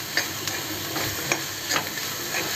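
Onion sautéing in a pan for egg bhurji, a steady close sizzle broken by several sharp scraping stirs, with no talking.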